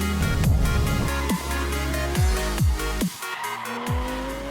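Porsche 996 911 with the Gundo hack exhaust revving, repeated sharp throttle blips rising and falling in pitch, loud and close, with no voices over it.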